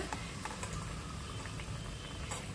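Shengole dough frying in hot oil: a dense, steady sizzle with fine crackling pops throughout, close and even in level.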